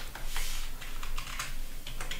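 Continuous clicking of keys as code is typed on a computer keyboard, steady and close with no voices.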